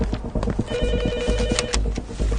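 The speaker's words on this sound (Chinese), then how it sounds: "蹲守在赵文炳家的人来电话了" A telephone rings close by in a steady, loud trilling burst lasting a couple of seconds, with faint clattering beneath and no talking.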